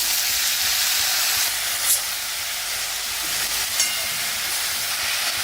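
Chopped onions sauté in an open pan for a stir-fry, giving a constant loud, dense sizzle and hiss with a couple of faint clinks, no talking.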